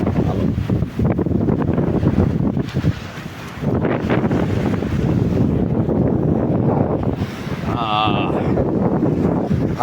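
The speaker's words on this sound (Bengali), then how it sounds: "ভালো লাগে বাতাস, ঠান্ডা বাতাস" Cool morning sea wind in Pattaya buffets the microphone in a steady, loud broadband rush throughout, with a brief high chirp near the end and possible faint talk underneath.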